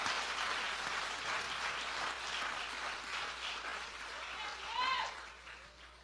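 Church congregation applauding after a prayer, a steady, moderately distant wash of clapping that swells briefly near the end, with a faint voice rising over it.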